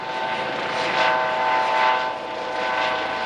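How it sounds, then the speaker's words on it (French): Steady engine drone of gendarmerie helicopters circling overhead around a village, rising and falling slightly as they pass, with no voices. "Il y a des hélicoptères de la gendarmerie qui tournent tout autour du village de l'eau"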